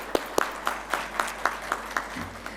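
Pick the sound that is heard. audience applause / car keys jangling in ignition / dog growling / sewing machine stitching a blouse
audience applause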